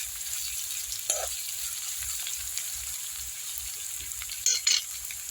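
Onions fry gently in a pan, a continuous soft sizzle with a brief utensil scrape early on and a couple of louder crackling bursts near the end.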